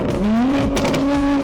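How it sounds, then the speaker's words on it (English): A car engine revs in a tunnel as the driver downshifts, a loud, close, rising and falling note with the pitch climbing sharply and holding, reverberant and steady, with no talk. "Because I'm going to downshift."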